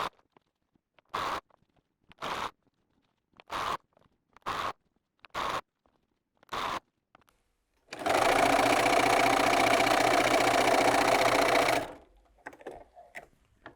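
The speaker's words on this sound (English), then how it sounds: "sew to the end, and then repeat that until they're all joined together" Domestic sewing machine stitching quilt charm pack pieces together: several short whirring bursts at first, then one long steady run of about four seconds, loud and close with no talking.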